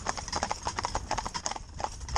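A stallion and two geldings working in tandem give a steady, close run of clip-clopping hooves, many quick overlapping strikes at an even walking rhythm.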